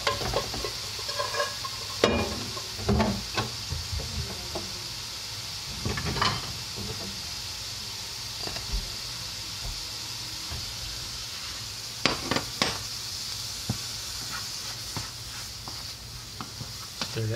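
Poke salad greens sizzle steadily in a pan while a spoon stirs and scrapes them through the cooking, with occasional louder clatters and knocks; nobody talks.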